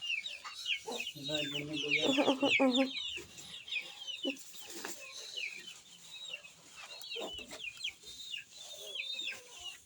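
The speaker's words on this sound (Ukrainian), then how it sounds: "Зарізні кольорові курчата." Young chicks cluck and peep in a busy, close chorus, with soft voices murmuring now and then in the background.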